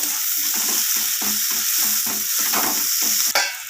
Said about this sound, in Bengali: আর দিয়ে দেব কেটে রাখা পেঁয়াজ পেঁয়াজটাকে আমি ভালোভাবে যতক্ষণ না আমার কালার চেঞ্জ হয়ে আসছে আমি ততক্ষণ পেঁয়াজটাকে একটু ভেজে নেব